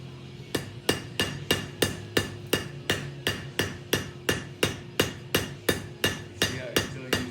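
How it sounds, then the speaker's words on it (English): A light hammer strikes a rebar workpiece while a fork is being shaped from it, sharp metallic blows landing in an even rhythm of about two per second, close and distinct against quiet surroundings. "See how you're still using the light hammer because blows are way more controlled"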